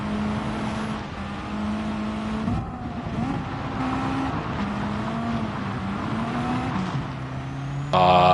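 Race car engine in Gran Turismo 7 revving hard, with rising and falling pitch as it shifts gears and bounces off the rev limiter. It runs loud and steady throughout, with a sharp upshift near the end.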